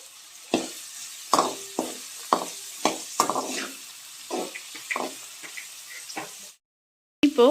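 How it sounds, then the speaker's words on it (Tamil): Chopped onions, green chillies and ginger sautéing in a pan for a goat blood fry, a spoon stirring and scraping in repeated strokes over a faint sizzle, with a brief break near the end. "மிளகா, இஞ்சி இதை எல்லாத்தையும் சின்னதாக நறுக்கி போட்டு நல்லா வதக்கி எடுத்துக்கணும்"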